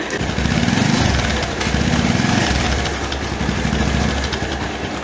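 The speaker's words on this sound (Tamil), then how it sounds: "பைக்கை ஸ்டார்ட் பண்ணியாச்சு. இப்போ எப்படி இருக்குன்னு பாருங்கள்." A restored Bajaj Pulsar 200 DTSi motorcycle idles close by with a loud, steady, even engine beat. The rhythmic low thrum shows slight swells across the whole stretch.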